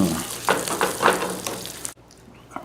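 Hash frying in a hot pan gives a loud, steady sizzle with a few stirring scrapes before cutting off abruptly near the end.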